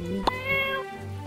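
A cat in the video game My Time at Portia gives one clear, close meow, with a short click just before it and a soft low hum of game background underneath.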